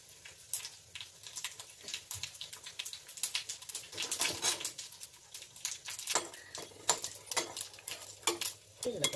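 Mustard seeds, cumin and dried red chillies fry in hot oil for a South Indian kootu tempering, a soft close sizzle broken by sharp crackles and pops, with occasional scraping of a stirring utensil.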